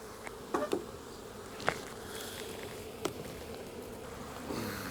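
Honeybees buzz steadily around an open hive during a beekeeping inspection, with a constant insect drone and a few sharp clicks and knocks from hive tools or frames.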